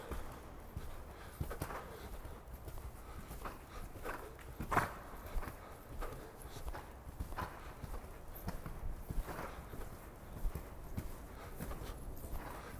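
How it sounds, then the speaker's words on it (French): A horse gallops during a riding lesson, guided one-handed around a square in an arena; its rhythmic hoofbeats run steadily through the clip, fairly faint and at a middle distance. "on va commencer à galoper en guidant son cheval dans ce carré avec une seule main"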